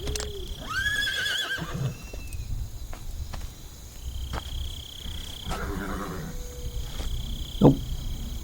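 A horse in the video game Metal Gear Solid 3 whinnies loudly near the start, its neigh trailing off, then gives a shorter second whinny later, over a steady hum of insects and outdoor ambience.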